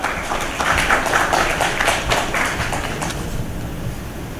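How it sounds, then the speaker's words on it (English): Audience applause at a live debate event, a dense burst of clapping that fades toward the end. "Yes, please applaud."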